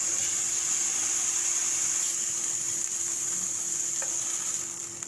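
Beef steak pieces searing in a hot pan give a steady, close sizzle that holds evenly throughout and eases off slightly near the end, with no voices.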